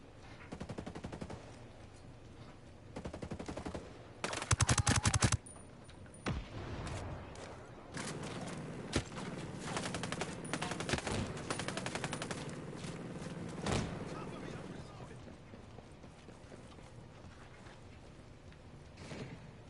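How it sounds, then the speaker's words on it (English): Bursts of rapid gunfire and scattered single shots crackle through a firefight in the video game Ghost Recon Breakpoint, some loud and close, others fainter, with no talking. "Firefight going on here."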